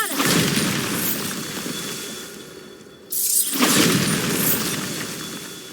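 Bombarda explosion spell cast in the Hogwarts Legacy video game: two loud, sharp blasts, one at the start and one midway, each followed by a crackling, debris-filled roar that slowly fades.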